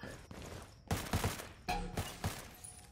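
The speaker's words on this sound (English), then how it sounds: "Psycho taking shots at the window where Smuggler's hanging out." Gunfire aimed at a window in the shooter game Ghost War, several sharp bursts of shots at irregular intervals, close and loud, with quieter game sounds in between.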